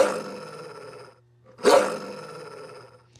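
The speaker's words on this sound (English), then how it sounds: "So here we've got a dog." A dog barks as a sound effect synced to animation: a loud growly bark at the start, a short pause, then a second sharper, louder bark that rings out and fades under a low steady hum.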